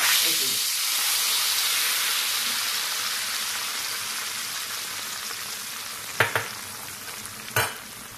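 Hot tempering for a taro leaf vegetable in buttermilk is poured over the dish, giving a steady, close sizzle and hiss that holds throughout, with a couple of sharp clinks near the end.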